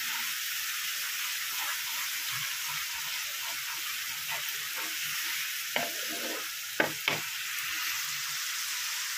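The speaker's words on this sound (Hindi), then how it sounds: "इसको भूनेंगे अच्छी तरह से ताकि सारे मसाले टमाटर सब भून जाए" Masala and tomatoes frying for nargisi kofte, a soft, even sizzle under repeated scraping and clinking strokes of a spoon stirring the pan.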